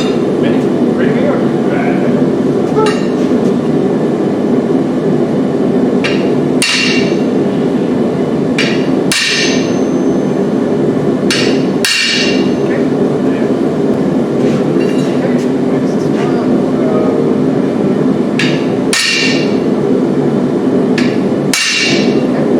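Hammer blows ring out on a steel punch while forging a campfire tripod, a dozen or so sharp metallic strikes at irregular intervals over a steady loud roar of forge and shop noise.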